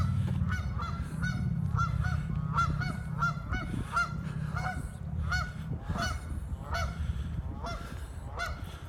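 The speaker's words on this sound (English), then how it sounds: "Geese are beautiful birds." A flock of geese honks by the Maumee River with loud, repeated, overlapping calls in an irregular rhythm over a steady low rumble of wind or water.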